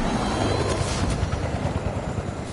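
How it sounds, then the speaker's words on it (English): A helicopter in the Fortnite video game thumps and whirs steadily and fairly loud, its rotor chop pulsing through a broad engine roar with no talking. "Tom. You should hit the helicopter"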